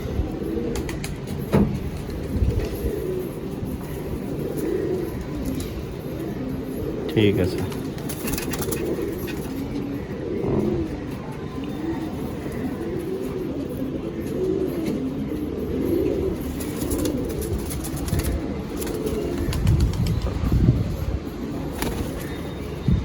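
Madrasi pigeons of an old high-flying Andhra bloodline coo repeatedly in a loft, soft rolling calls recurring throughout while people talk over them and other birds chirp faintly.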